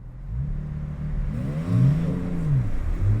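A 2021 Porsche Cayman GTS revs hard while accelerating from a standstill on a damp surface, its engine note climbing in rising sweeps, dropping at a gear change, then winding up again, loud and close throughout.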